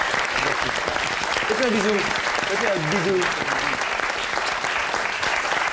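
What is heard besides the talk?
audience applauding Alain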